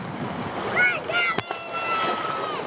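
Black Sea surf at the Eforie Nord beach in Romania rushes and washes in a continuous, fairly close hiss, while people's voices call out over it.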